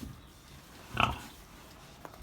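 A young female pig on a farm gives a single short oink partway through, fairly close, with low background noise around it.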